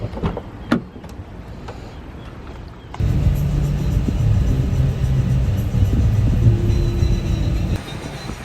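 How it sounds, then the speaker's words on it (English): Inside a car driving in Bali, a few faint clicks give way to a loud, steady low engine and road rumble that fills the cabin and continues to the end. "now it's time to hop back in the car"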